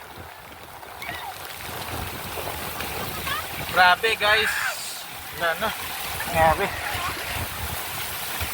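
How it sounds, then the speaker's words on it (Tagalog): Heavy rain pours steadily onto flood water on a crowded street, a continuous washing roar with occasional splashes, while people talk and exclaim over it. "Guys, grabe lakas ng ulan dito."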